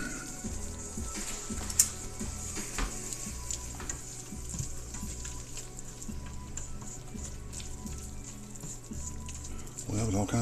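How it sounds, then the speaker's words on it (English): Broth poured into a hot pan while cooking chicken enchiladas sizzles and crackles steadily, with faint stirring scrapes and clicks of a utensil against the pan throughout, fairly quiet and close. "that was all kinds of sizzle when we threw it in there"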